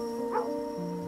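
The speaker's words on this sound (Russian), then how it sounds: "Ну вот только и гавка типа показывает, где враги еще." A dog barking in the game Kingdom Two Crowns: one short yip rising over a steady tonal music bed, with no voices.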